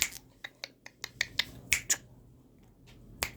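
A run of crisp finger snaps given as a command to a Rottweiler during training, about a dozen sharp clicks at an uneven pace, close and fairly quiet against a still background.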